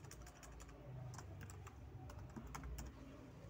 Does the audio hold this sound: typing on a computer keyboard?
yes